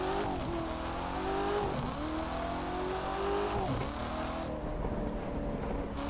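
In the racing game The Crew 2, a car engine revs hard and continuously, its pitch climbing and dropping through gear changes with brief tire squeal, loud and close throughout.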